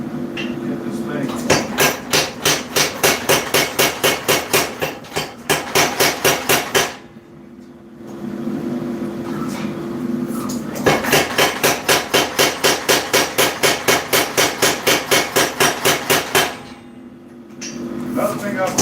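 A power hammer, a flatter maker being tested, pounds metal in fast, steady bursts of loud rhythmic blows, pausing briefly between runs with a running hum underneath.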